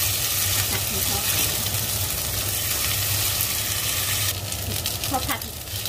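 Glass noodles with bamboo shoots and fish tofu stir-frying in a pan, a steady close sizzle with scraping stirs throughout and a brief burst of louder clatter near the end.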